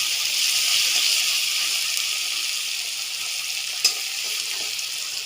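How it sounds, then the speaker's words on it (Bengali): Garlic sizzling steadily in a frying pan with a pinch of salt, a continuous bright hiss with a single sharp tick near the end, close and unaccompanied by voices. "রসুনটা ভাজা হয়ে গেছে"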